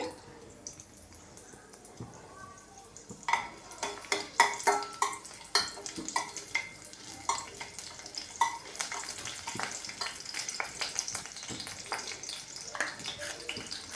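Garlic crackles and spits in hot oil, sharp pops ticking irregularly over a soft background sizzle, close by with occasional utensil clinks.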